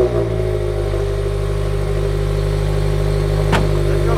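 A Mazda MX-5 engine runs at a steady, close idle-like drone on the Côte d'Azur, a constant low hum with a brief sharp transient near the end.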